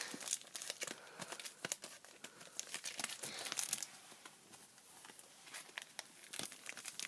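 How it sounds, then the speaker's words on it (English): Foil card packs for Phantom Forces trading cards are shuffled and handled, giving close, busy crinkling and rustling with sharp crackles throughout and no talk. "So, we got 5 Phantom Forces packs. I'll mix them up."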